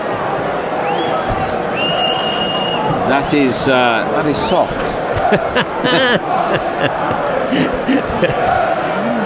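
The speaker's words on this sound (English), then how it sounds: "you can hear what the crowd think about that" Football crowd at a Crystal Palace v Newcastle United Premier League match reacting to a free kick decision: a loud, sustained roar and jeering from the stands with whistles and shouts, a commentator talking over it.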